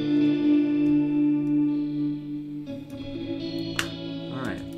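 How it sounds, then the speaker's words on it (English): A fingerpicked guitar part plays within a song mix, with sustained plucked notes and a change of chord midway. Faint higher clicks and string noise appear toward the end. "we'll also hear how the finger pick guitar comes"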